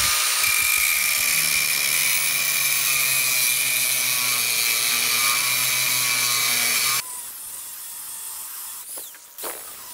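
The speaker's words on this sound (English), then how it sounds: "So with a grinder and a welder, we can cut off the bumps and then fill in the hole." An angle grinder cuts bumps off a steel grab hook with a loud, steady high-pitched whine for about seven seconds, then shuts off and winds down, followed by a few faint clanks.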